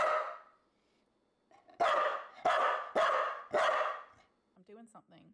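A dog barking indoors: one bark, a pause, then four loud sharp barks in a rapid series, followed by faint short sounds.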